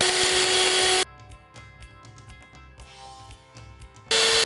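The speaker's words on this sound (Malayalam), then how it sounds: "ഒരു 3 to 4 മിനിറ്റ്സ് ഹൈ സ്പീഡിൽ ഇട്ടിട്ടാണ് മിക്സ് ചെയ്യാൻ പോകുന്നത്" An electric hand mixer beats red velvet cake batter at high speed in bursts: a loud whine at the start, a quieter stretch with clinks and bumps, then the whine returns briefly at the end.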